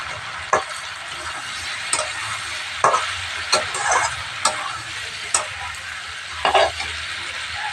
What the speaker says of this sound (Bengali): এরপর আরও খানিকক্ষণ কষিয়ে নেব